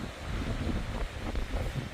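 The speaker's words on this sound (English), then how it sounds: "it's pretty windy down here." Wind gusts steadily across the open ground of a family farm in May, a constant low rushing roar buffeting the microphone, loud and close throughout with no one talking.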